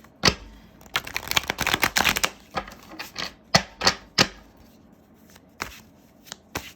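A deck of tarot cards is shuffled by hand: bursts of crisp riffling and slapping clicks come in irregular clusters, close and distinct, with no talking.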